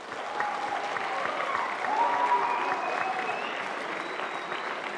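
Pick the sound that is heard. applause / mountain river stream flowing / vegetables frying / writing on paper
applause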